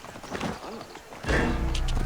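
Horse in a video game: a brief whinny, then loud, close hooves clopping in a steady run with no talk over them.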